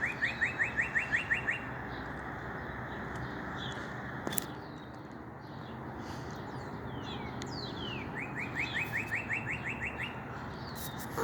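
A small bird chirps in rapid bursts of about eight sharp, evenly spaced tweets, then falls quiet against a soft room hum before another similar burst follows.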